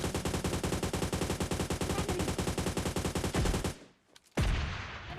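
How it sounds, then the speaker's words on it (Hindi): In PUBG Mobile Lite, rapid, evenly spaced gunfire runs for several seconds, then a brief silence gives way to a sudden loud RPG blast that rumbles and fades. "भाई ने एकदम परफेक्ट RPG छोड़ा था, लेकिन थोड़ा नीचे की साइड हो गया।"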